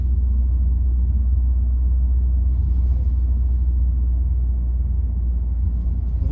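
A Ford Focus III Titanium hatchback with a 1.6 engine drives over manhole covers, producing a loud, continuous low road rumble with engine drone. The covers make only faint, indistinct bumps.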